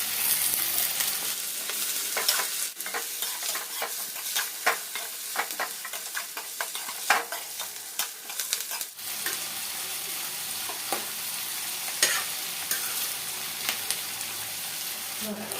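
Onions fry with a little salt in a pan for lemon rice, sizzling steadily while a spoon stirs and scrapes repeatedly, a close and busy kitchen sound.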